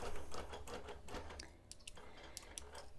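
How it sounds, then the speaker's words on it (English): A BERNINA Q-Matic quilting machine stitches through batting over a slippery backing, a steady quiet mechanical whirr with fast repeating clicks and a few brief sharper ticks, heard close with no one talking. "the extra little side reason of stitching your batting like this is that it gives you a nice straight line to line up your quilt to"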